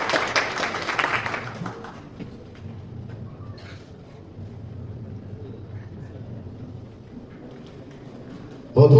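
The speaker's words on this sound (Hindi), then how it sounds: "आओ जी जोरदार तालियां।" Applause at a prize-giving ceremony for pigeon-racing winners: a burst of clapping up front that quickly fades into a low crowd murmur, with a sudden loud noise at the very end.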